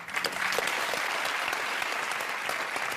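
A studio audience claps as a guest walks out onto a talk show set, a continuous, even burst of applause that stays steady throughout.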